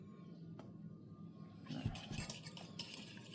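Garlic stirred into melted butter in a bowl, quiet at first, then soft clinking and scraping of a utensil for the last second and a half, close and faint.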